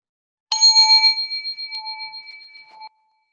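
A struck singing bowl bell rings out once with a clear attack, its steady tone fading slowly over about two seconds in a quiet mindfulness session.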